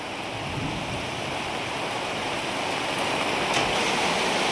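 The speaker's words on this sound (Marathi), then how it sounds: "भरपूर पाऊस चालू झालाय अचानकच." Heavy sudden rain with runoff water flowing, a dense steady hiss and rush at moderate level, continuous throughout without talk.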